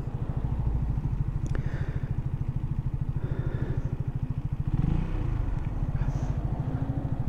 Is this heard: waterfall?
no